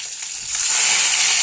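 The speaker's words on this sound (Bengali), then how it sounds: "জাস্ট মাছগুলো ভেজে নিচ্ছি এপিট এপিট করে" Rohu fish pieces frying in hot oil in a pan, side by side, for a Bengali kalia, giving a loud, steady, close sizzle that swells slightly and holds without any talk.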